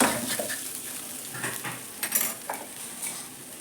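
Egg and soya chunk fried rice being stirred and tossed with a fork spoon in a pan, with steady scraping, clinking metal and a light sizzle running throughout, close and alone.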